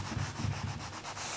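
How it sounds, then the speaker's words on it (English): Sandpaper passes lightly back and forth over a painted furniture surface to dull its sheen, giving a quiet, rhythmic rasping scrub with about five strokes in quick succession, heard on its own. "give it a light sanding as well, just to really bring down that sheen"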